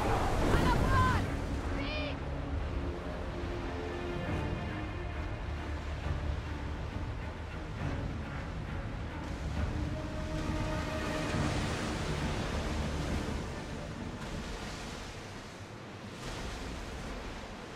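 Wind and sea wash continuously around a ship sailing at sea in Assassin's Creed Odyssey, a broad rushing roar with a brief louder swell at the start.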